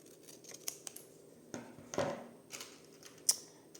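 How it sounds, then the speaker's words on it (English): Scissors cut through paper for a junk journal, giving a few close, crisp snips and rustles spaced irregularly, with one sharp final snip, and no talking. "So I am going to then cut here,"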